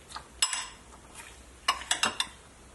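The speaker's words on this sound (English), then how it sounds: "give it a quick little stir" Utensil stirring salted pico de gallo in a bowl, a few sharp scraping clinks in quick bursts, close and fairly quiet.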